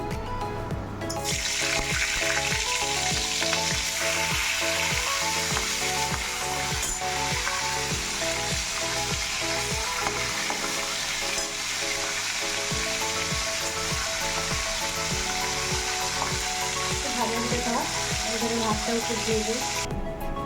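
Hilsa fish heads frying in hot oil in a wok, a steady close sizzle with faint stirring and scraping running throughout and continuing evenly.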